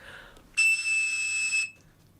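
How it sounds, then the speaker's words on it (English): A 2600 hertz telephone signaling tone, the pitch once matched by a Cap'n Crunch toy whistle, sounds as a single steady, piercing pure tone held for about one second and then cut off cleanly. "To mimic the 2600 hertz tone, some people would even use a toy whistle from a Cap'n Crunch cereal box."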